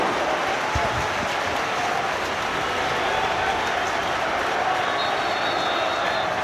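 A football stadium crowd at an FA Cup match roaring as a player shoots, a loud sustained wash of cheering and noise with a commentator talking over it.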